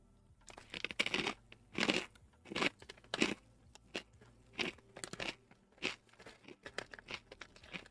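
Crunchy Bissli BBQ wheat snacks chewed up close, loud irregular bursts of crisp crunching and crackling bites, roughly a dozen over several seconds with brief quiet gaps between, no talking.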